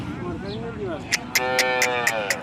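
A pregnant Kathiawari cross cow moos in a drawn-out, rising call close by, following a brief bit of voice, with a few clicks underneath.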